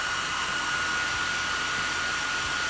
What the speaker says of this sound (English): So grab the hairdryer, dry that down